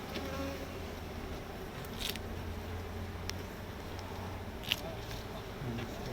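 Honey bees linger and buzz around an opened beehive during beekeeping, a steady, fairly faint hum that runs throughout with a few small clicks and taps.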